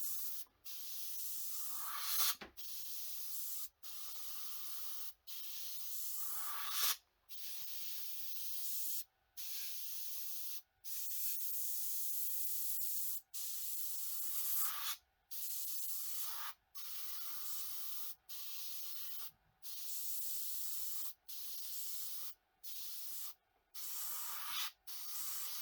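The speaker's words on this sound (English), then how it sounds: "If I want a line to be sort of more apparent, just bring the airbrush a little bit closer to it," An airbrush sprays paint onto an AMT 1/3200 Romulan Warbird model kit in a quiet, close, airy hiss, coming in repeated short bursts separated by brief silences.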